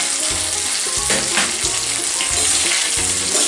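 Grated coconut and onion sauté in a hot pan for a Kerala-style crab curry, making a loud continuous sizzle and crackle with scraping stirs throughout, close up and without voices.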